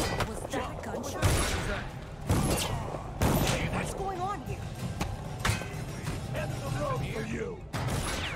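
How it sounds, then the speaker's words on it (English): Several sharp gunshot blasts in the video game Dishonored 2 crack out at irregular intervals, mixed with game sound effects and a voice talking throughout. "Was that a gunshot?"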